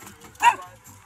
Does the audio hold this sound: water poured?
no